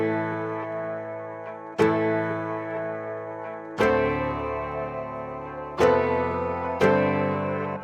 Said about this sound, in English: it has a preset called Vinyl Guitar Harp, which is very close to an actual harp sound